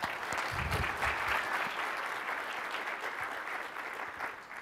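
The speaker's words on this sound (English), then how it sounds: "Let's give her a round of applause" An audience at a tech talk on DevOps gives a speaker a round of applause, a sustained and even wash of many hands clapping that fades slightly toward the end, with no speech over it.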